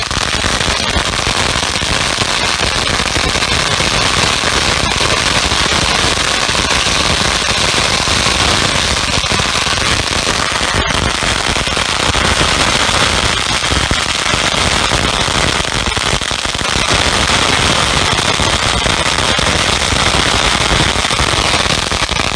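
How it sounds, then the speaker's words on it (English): A roll of firecrackers going off, a dense, continuous barrage of loud crackling bangs that runs unbroken at full intensity throughout, close and overwhelming. "that one fuse burning into it will light off every other firecracker around it"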